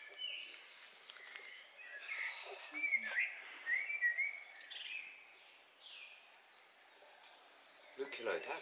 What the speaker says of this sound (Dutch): Leuk geluid, hè? Vogeltjes en koffie.